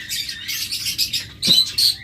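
Pet birds at a farm chatter in a dense, continuous stream of high-pitched chirps and squeaky calls, fairly loud and near, with a couple of sharper bursts toward the end.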